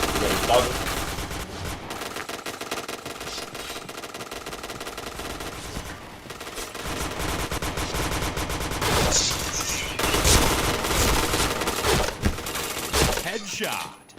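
Rapid bursts of gunfire from the first-person shooter PointBlank, with dense overlapping shots and impact hits running throughout, loud and close, broken by brief pauses and a sharper burst near the end.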